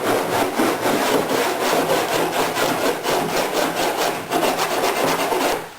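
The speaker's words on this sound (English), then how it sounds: "either use my sanding block or my little rasp on the fine side, and just lightly going along" Steady, rhythmic abrasive strokes of a sanding block rubbing back and forth along a boat's epoxy seam edge, close and fairly loud, with no voices.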